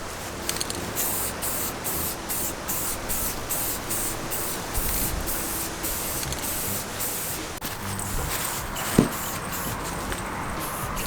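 Go-kart frame parts, hung up for painting, get an apple red spray coat. A steady close aerosol hiss runs throughout, broken by rapid short bursts and pauses, with no talking.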